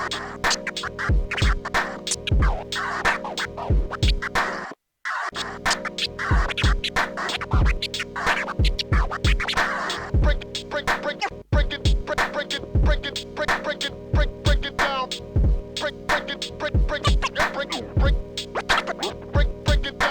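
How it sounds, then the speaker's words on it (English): Rhythmic vinyl scratching on DJ decks over a steady Pocket Operator PO-33 beat, repeating kick and hat pattern with busy scratch bursts throughout, one brief dropout near five seconds, no talk. "I'm going to chuck this onto the decks and have a little scratch"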